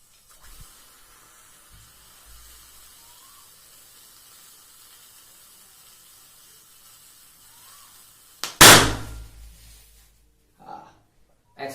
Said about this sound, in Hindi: एक्सप्लोजन भी हुआ